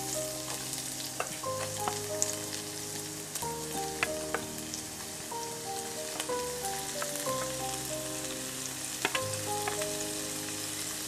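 Small shallots frying in hot oil in a pan for a Malabar mani puttu dish, a steady sizzle running throughout at close range over a sustained musical tone, with occasional light clicks and no talking.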